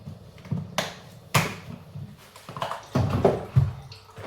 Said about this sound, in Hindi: और अब हम इसको 2-3 पानी से अच्छे से धोएंगे पहले।